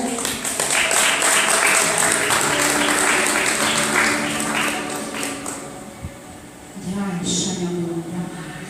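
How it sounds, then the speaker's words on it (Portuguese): Church congregation clapping in praise, dense sustained applause for several seconds that fades, followed by voices and a brief cheer or shout near the end. "Palmas ao Senhor."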